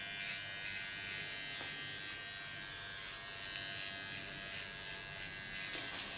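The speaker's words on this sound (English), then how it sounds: "Go to my small clipper again." A small electric hair clipper trims hair along the neckline during an asymmetric side-shave undercut, giving off a steady, close, continuous buzz with no one talking.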